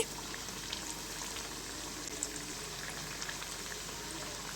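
Flour and potato snack frying in hot oil, a steady dense crackling sizzle like light rain, even and continuous throughout with scattered small pops.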